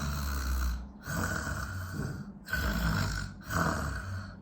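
A person imitates snoring, with three long rasping breaths separated by short pauses, close and loud.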